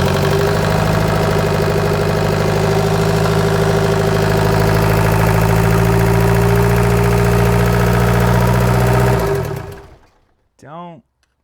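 A diesel engine idles steadily and loudly close by, a swapped-in VW 1.9L TDI in a MK1 Rabbit, running at reduced idle speed before it is cut off abruptly near the end, followed by a brief rising-falling tone.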